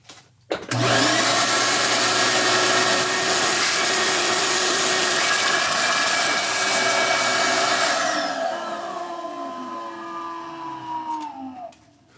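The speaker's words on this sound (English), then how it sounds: "Let's grab a vacuum cleaner." A vacuum cleaner switches on near a woodworking job on dimensional lumber and runs with a loud, steady whine, its tone dipping slightly as it works before spinning down at the end.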